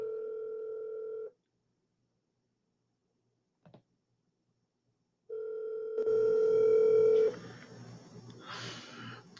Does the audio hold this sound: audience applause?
no